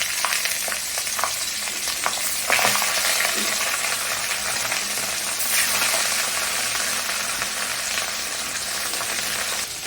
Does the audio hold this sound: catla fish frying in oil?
yes